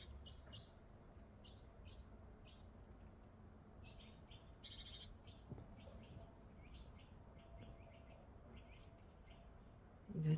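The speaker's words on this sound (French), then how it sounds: "Ah non, c'est un petit oiseau." Small bird chirping outdoors near a house in the morning, a series of brief high tweets scattered through the clip over a low steady background hum, with no talk.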